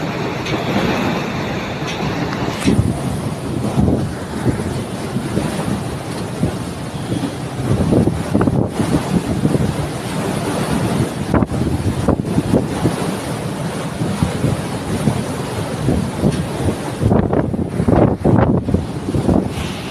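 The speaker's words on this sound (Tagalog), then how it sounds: "Tuloy pa rin ang trabaho kahit sobrang lakas ng alon." Loud, continuous roar of wind and rough sea around a ship at sea in bad weather, steady throughout with gusty surges and crashing wave bursts near the end; no talking.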